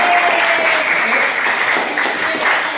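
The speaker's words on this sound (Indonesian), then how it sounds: "Oke, berikan aplaus untuk semua." Applause from a class audience for students, a steady dense wash of clapping filling the whole stretch at a fairly loud level, with some voices mixed in.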